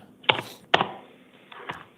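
A few sharp, quiet clicks of computer keyboard keys pressed in short bursts, with pauses between them, in an otherwise quiet Maricopa County Superior Court room during an initial appearance hearing.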